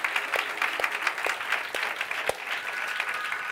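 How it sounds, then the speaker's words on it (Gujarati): Audience at a Gujarati religious katha discourse claps in sustained applause, a dense steady patter of many hands with a few sharper individual claps standing out. "એકવાર આપણે આ બધા હિંડોળાના સેવાવાળાને તાળીથી બતાવો."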